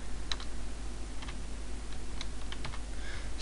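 Keys on a computer keyboard tap in short, irregular clusters against a low steady hum, fairly quiet and close, with no speech.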